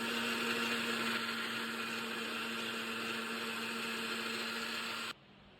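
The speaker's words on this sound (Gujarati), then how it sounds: "મિક્સરમાં મસ્ત મજાનો રસ કમ્પ્લીટ કરી દઈશું બરોબર અંદર મોરસ ને બધું નાખીને" An electric kitchen mixer blends chopped mango pulp with sugar, a loud steady high-pitched motor whine running continuously for about five seconds before cutting off abruptly.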